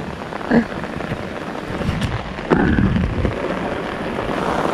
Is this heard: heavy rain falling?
yes